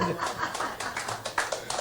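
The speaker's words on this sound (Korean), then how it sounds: "박수 한번 주세요" Brief, rhythmic clapping from a small group at a gathering with toasts, a string of sharp, fairly soft hand claps.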